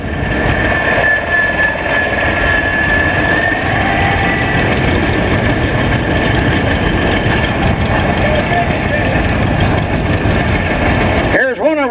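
A 1970 John Deere 140 garden tractor in patio red with a 3-point hitch runs at a two-cylinder club show, its steady engine drone loud and continuous under talk from an announcer.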